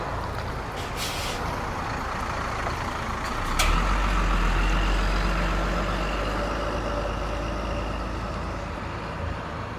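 A large parked bus's diesel engine idles steadily nearby with a low rumble, a sharp hiss of air brakes bursting through partway, amid outdoor traffic noise.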